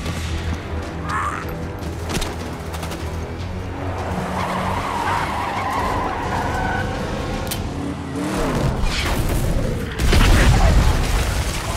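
Truck in the Army of Two: The Devil's Cartel video game driving off and skidding, with engine roar, tire squeal and a loud boom-like impact near the end, steady game noise throughout.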